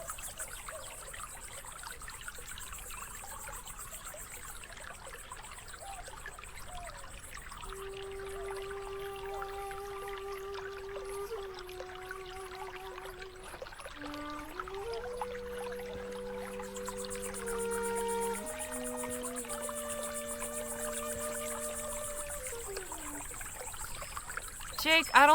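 Spring water trickles steadily in the video game Rosewater, a soft continuous babble running under calm background music with sustained melodic tones throughout.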